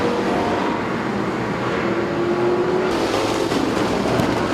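Street stock race cars roaring around a dirt oval, a loud continuous engine drone with steady pitch changes as the field runs together, no talk over it.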